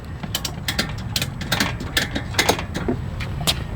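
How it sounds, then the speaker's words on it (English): Ratchet straps are cranked tight on a motorcycle strapped to a rack-type carrier, giving a rapid series of close, loud clicking ratchet strokes. "tighten it up as much as I can, and then start ratcheting"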